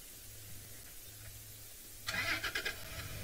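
A safari vehicle engine starts up and runs nearby after a quiet stretch of low background rumble in South Africa, rising in loudness with a few uneven bursts.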